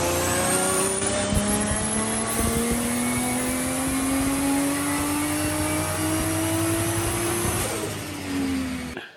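A forged Nissan SR20DET engine revs on a dyno, a loud, raspy turbocharged roar whose pitch climbs steadily through a long pull and then drops off as the throttle closes near the end.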